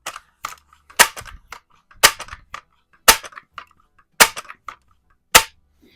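Sharp pops from a Barra 1866 .177 multi-pump air rifle fired in a garage, about seven separate shots spaced roughly a second apart, each snapping loud and close with a short decay.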